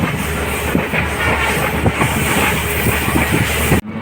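Inside a moving passenger train, a loud, steady rumble runs with rhythmic clickety-clack of wheels over the rails and a faint hiss, cutting off sharply at the end.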